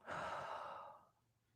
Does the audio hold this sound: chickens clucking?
no